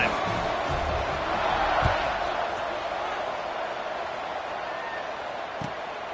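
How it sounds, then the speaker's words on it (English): Stadium crowd roaring steadily at a college football game between Kentucky and Boston College, a broad sustained wash of cheering with a few sharp thuds and voices rising within it, no distinct talk on top. "this crowd is feeling themselves after that last drive"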